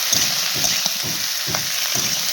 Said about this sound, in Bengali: সবজিগুলো দিয়ে ভালো করে নাড়াচাড়া করতে হবে।